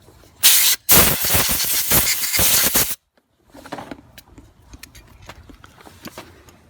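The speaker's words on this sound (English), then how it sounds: "Compressed air again." Compressed air blasts onto the front disc brakes of a Toyota Corolla, a loud hissing burst of about two seconds after a brief opening puff, then quieter workshop clatter follows.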